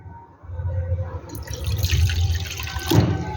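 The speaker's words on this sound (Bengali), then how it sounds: "এই দেখো আমি হাফ বাটির মতন জল দিলাম" Water is poured into a bowl of semolina and rice to be ground into a thick paste, a close, continuous trickling and splashing stream that swells near the end, with a faint voice in the background.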